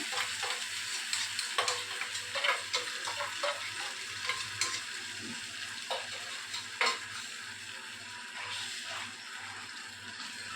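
Blended tomato puree cooking in a hot frying pan, giving a soft continuous sizzle with clinks of stirring and a faint ticking pulse in the background.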